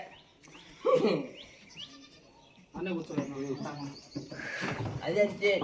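Goats bleating nearby, among them a young kid, with several wavering cries scattered across the clip and people talking over and between the calls.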